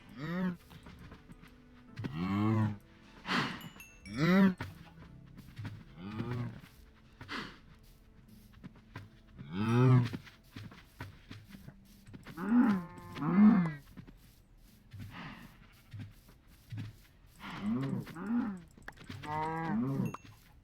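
Cows mooing in a farming video game, a series of long, drawn-out lowing calls spaced through the scene, some overlapping, with quiet gaps between them.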